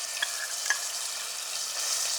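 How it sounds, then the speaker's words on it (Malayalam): Ginger-garlic paste hits hot coconut oil in a pan for pepper chicken, giving a continuous bright sizzle with a couple of sharper spits early on, close and fairly loud, with no one talking. "എണ്ണ ഒന്ന് ചൂടായി വന്നാൽ 2 ടേബിൾ സ്പൂണ് ഇഞ്ചി വെളുത്തുള്ളി പേസ്റ്റാക്കിയത് ഇട്ട് കൊടുക്കാം."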